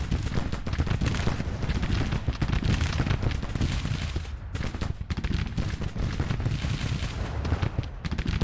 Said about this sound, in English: Alright, so the artillery here is firing at the enemy cavalry.